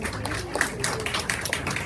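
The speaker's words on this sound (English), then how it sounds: "Let's give her a big round of applause." Audience applause greeting a woman comedian as she takes the stage at a stand-up comedy show for Ambedkar Jayanti in Houston, with steady dense clapping throughout and some voices mixed in.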